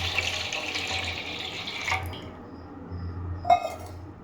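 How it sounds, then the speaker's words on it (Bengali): Ganga water poured by hand during a Janmashtami offering, a steady splashing trickle close by that fades out partway, followed by a few small drips and a light clink. "দিয়ে দিলাম গঙ্গা জল।"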